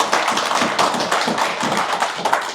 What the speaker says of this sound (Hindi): इसके लिए ताली बजना चाहिए आप लोगों को